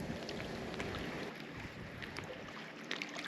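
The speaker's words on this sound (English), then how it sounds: "It's starting to snow, wind's pretty stiff" Stiff wind blowing outdoors by the shore on a cold, snowy day of fishing, a steady broadband rush and buffeting against the microphone, fairly faint and continuous, with no voices.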